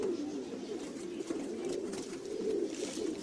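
Pigeon cooing close by, a soft throaty continuous coo with rolling pulses, steady and moderately loud throughout.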